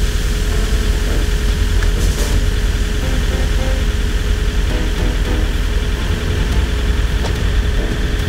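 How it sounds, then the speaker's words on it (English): A semi truck engine idles steadily at a yard while the trailer is being dropped, a continuous loud low rumble with a faint hum and a few brief clanks or hisses, no voices. "in the process of dropping my trailer"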